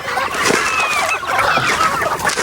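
Mixed farm poultry, chickens and geese, clucking and calling together in a dense, continuous chorus while being fed, with scattered honks and squawks rising over the steady flock noise.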